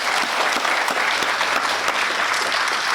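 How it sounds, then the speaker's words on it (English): An indoor crowd at the opening of a space and rocket center training complex applauds for the governor's representative, a dense, steady wash of clapping held close and loud throughout. "Let's give him a round of applause"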